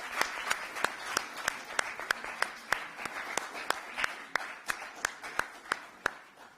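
Audience applause at a women's conference hall, with regular, crisp claps from a few nearby hands standing out over a thinner background of scattered clapping.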